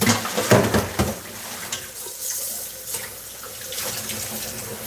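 Water runs from a kitchen tap in a home cooking setting, starting with louder splashing and clatter and then settling into a steady, close stream.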